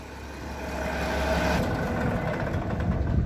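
A Fiatallis 14C Turbo crawler tractor idles with a steady low diesel rumble while being eased forward onto a trailer, the engine note thickening slightly midway.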